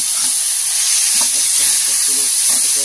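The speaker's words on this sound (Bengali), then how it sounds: "কষিয়ে নেব" Noodles with egg, potato, green chillies and tomato sauce sautéing in a hot pan, a steady bright sizzle running throughout with a few soft stirring scrapes, close and fairly loud.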